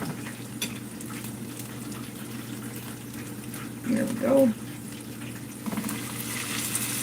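Cube steak sizzles steadily while frying in a pan, with faint stirring and utensil scrapes and a louder hiss partway through, as a voice speaks briefly nearby.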